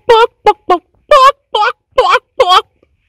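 A Galinha Pintadinha toy chicken sings loudly in seven short, evenly spaced electronic bursts, close and clear with silence between.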